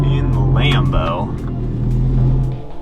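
A Lamborghini's engine rumbles steadily as it drives home after a 400-mile day trip, a low continuous drone heard from inside with a voice talking over it.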